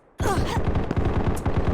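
A rapid burst of automatic gunfire in the shooter game Combat Master starts abruptly and continues as loud, close, evenly spaced shots to the end.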